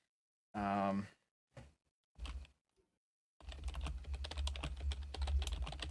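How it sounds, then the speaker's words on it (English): Rapid, irregular clicking of typing on a computer keyboard fills the second half, close and steady, after a few short bursts of voice and pauses. "The sound of typing."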